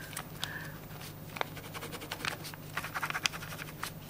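Pen scratches and taps on paper in short, close, irregular strokes, soft and dry, with faint handling noise behind them.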